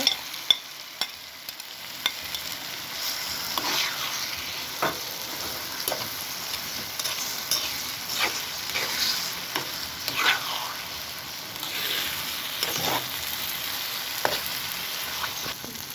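A thick paste sizzles and sputters in a hot pan while a spoon scrapes and stirs it at irregular intervals, close up, with no talking.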